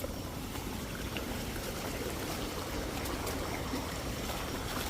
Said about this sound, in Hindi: आजकल तो बरसात के समय में चारों तरफ पानी की नहरें ही बह रही हैं